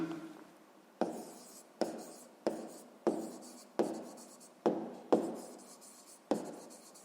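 A pen or pencil writes the numbers of a math proportion on paper, in quiet, close scratchy strokes repeated about eight times in short bursts with pauses between.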